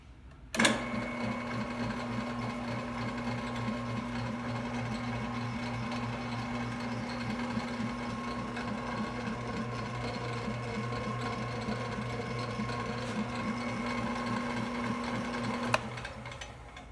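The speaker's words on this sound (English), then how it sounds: "I'll turn it on here for a second and you can hear it run." An old American heavy-duty drill press runs steadily for about fifteen seconds, a close, even motor hum with a smooth belt whir and faint rhythmic ticking, starting and stopping with a click, without talk.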